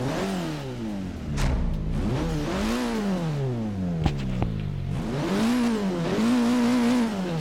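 A 2016 Honda Civic Type R engine in Forza Horizon 3 revs up repeatedly in rising sweeps, dropping between each climb, steady and loud with no voices.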